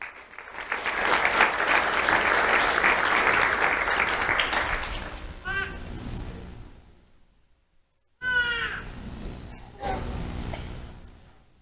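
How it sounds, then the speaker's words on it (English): An audience at a sheriff's office awards ceremony for schoolchildren claps loudly for several seconds. The applause then tapers off, and scattered high cheers and whoops follow after a short pause. "Let's have a round of applause for Marcus Tranchant"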